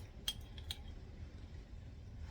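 A metal teaspoon pulled from a kitchen drawer, a couple of quick, faint clinks of cutlery near the start, then quiet room tone.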